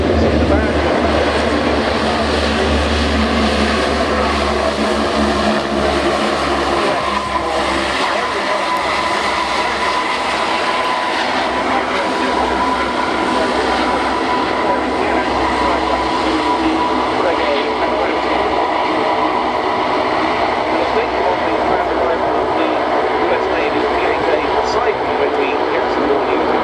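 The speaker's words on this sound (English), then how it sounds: "Another aircraft with some special markings, this German Navy Orion" German Navy Orion propeller aircraft at the RIAT airshow, a steady loud drone of turboprop engines holding throughout, with a thin tonal whine above the broad roar and a commentator talking over it.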